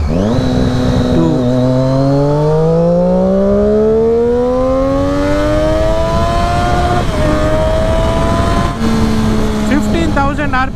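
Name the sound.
Triumph Daytona 675 motorcycle accelerating hard in second gear, SC Project exhaust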